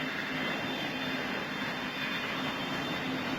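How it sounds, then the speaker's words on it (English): A fixed-wing airliner taxis after landing, its jet engines producing a steady, loud, unbroken roar with a constant low hum throughout. "The plane lands uneventfully and taxis to the taxiway."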